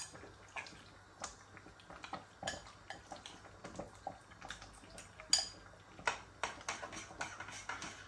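Chicken being stirred in a pot while making congee, with a spoon scraping and clinking against the metal in scattered soft knocks over a low steady background hum.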